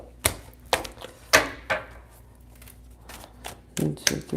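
Tarot cards are shuffled in several separate sharp riffling bursts with quiet gaps between them, close and crisp.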